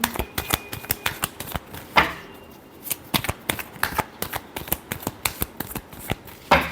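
Tarot cards are shuffled by hand in quick repeated riffles and taps, each crisp slap close and distinct, in an irregular but steady rhythm.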